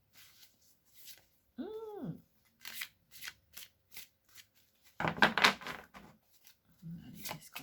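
Oracle cards being shuffled and drawn by hand for a reading, crisp close riffles and soft slides in short bursts, with a denser flurry of card noise near the end and a voice talking in between.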